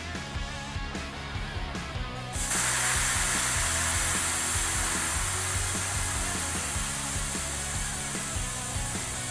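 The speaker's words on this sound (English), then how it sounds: "you'll need to release the air first" Air rushes out of an electric unicycle tire on a King Song S22 as a steady, loud broadband hiss that starts abruptly after a short stretch of quieter mechanical clatter and holds evenly to the end.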